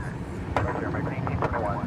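A British Airways A380 at DFW Airport gives off a steady, broad jet roar from a distance, heard beneath someone talking throughout.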